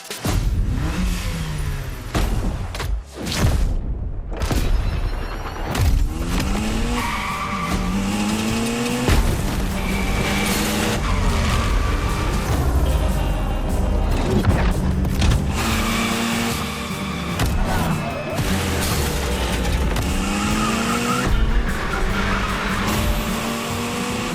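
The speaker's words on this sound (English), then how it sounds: "The Evo 9, you'll be driving it because you earned it." A Mitsubishi Evo 9 in The Crew Motorfest's gymkhana event screams through revving engine notes, sweeping gear shifts and repeated tire squeals and skids, loud and continuous without speech.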